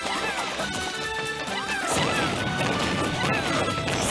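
Super Smash Bros explosion hit in a Grand Final match between Sonic and Olimar, a loud crashing burst of game effects with repeated sharp impacts over a dense, continuous din.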